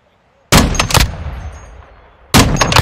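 Gunfire in the video game Call of Duty Modern Warfare 2: a loud burst of several rapid shots followed by a fading echo, then a second sharp volley near the end.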